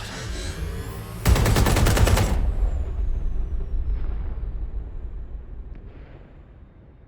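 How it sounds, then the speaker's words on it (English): A burst of loud rapid video game gunfire and explosions, then a long rumbling decay with faint scattered sounds trailing off. "a series of explosions devastated 3 sites in London"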